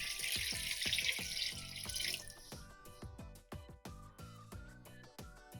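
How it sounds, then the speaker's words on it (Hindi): Water pours steadily into a pot of beef seasoned with salt, cinnamon and whole black peppercorns, ready for boiling for achar gosht; a bright rushing stream gives way to irregular splashing and sloshing close by. "और इसमें हम डाल देंगे हम पानी।"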